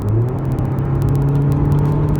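A 2008 MINI Cooper Hatchback engine hums steadily with a low, constant drone and a faint rising whine, fairly close and continuous throughout, with no voices.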